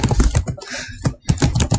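Quick, close bursts of keys on a computer keyboard with a brief pause in the middle, loud and fairly busy.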